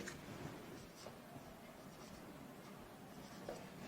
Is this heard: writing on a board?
yes